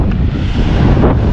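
Heavy gusts of wind at a beach in Forster, New South Wales, blast the microphone in a loud, continuous low roar, with the wash of ocean waves blended underneath.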